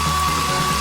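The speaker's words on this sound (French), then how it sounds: "J'aurais besoin du sèche-cheveux" A hair dryer blowing to melt marmalade candies, a steady, loud airy roar with a faint whine throughout the brief moment.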